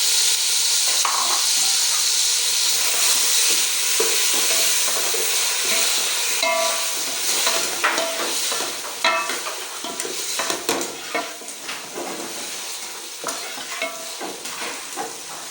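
Peeled, chopped tomatoes stirred into frying garlic in a pan, a loud continuous sizzle with scraping spoon strokes and occasional clinks against the pan, no voices.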